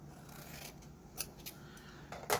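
Scissors snip through an envelope to cut the center out of junk journal paper, a few soft, close crisp cuts spread across a quiet background.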